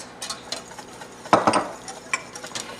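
A whisk works nutritional yeast into a bumpy vegan cheese sauce in a pot, making irregular light clicks and scrapes, with a louder, quick flurry of strokes partway through.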